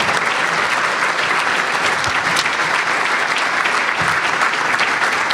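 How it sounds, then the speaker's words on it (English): A crowd applauds steadily, dense clapping holding at an even, fairly loud level from start to finish. "Let's give them all a round of applause."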